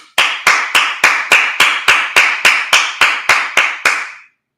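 A series of about twelve sharp, evenly spaced claps, loud and close, each ringing briefly before the next, then stopping.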